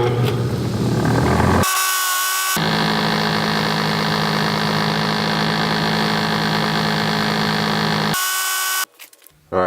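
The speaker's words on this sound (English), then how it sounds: "Pop him out like that, and take him over to the wire wheel" Bench wire wheel cleaning an engine valve from a Honda Goldwing motorcycle, a loud continuous whirring grind with steady hum that holds for several seconds, briefly drops out, then resumes near the end.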